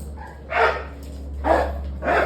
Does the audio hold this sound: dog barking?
yes